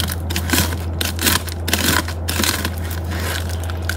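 Package or mailer torn open by hand, close up: dense crinkling, crushing and ripping of packaging over several seconds in irregular bursts, steady low hum underneath.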